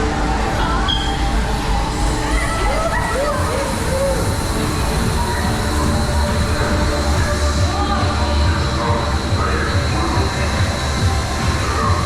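Continuous rumbling of the Euro-Mir spinning roller coaster at Europa Park, rattling wheels and faint rising and falling squeals, with voices talking over the noise.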